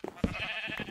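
A Minecraft sheep gives a short bleat near the start of a farm scene, a brief, moderately loud blip among faint game ambience with a steady hum running underneath.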